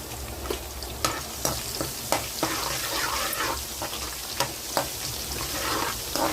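Garlic frying and being stirred in a pan for a cabbage dish, a steady sizzle broken by repeated sharp scrapes and knocks of the spoon, close and fairly loud.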